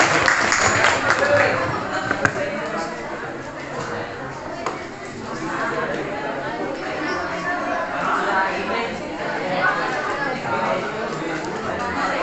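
A classroom of students claps for a student group, a busy wash of hand claps with chatter and voices mixed in throughout.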